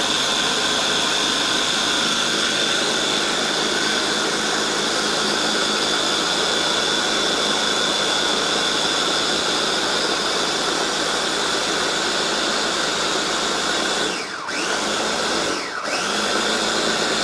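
A food processor switched to high speed grinds green chillies into a paste, giving a loud, steady motor whine that runs without a break, with two brief dips near the end.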